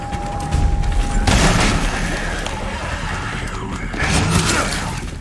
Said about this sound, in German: Ich muss auf jeden Fall immer auf den Kopf schießen.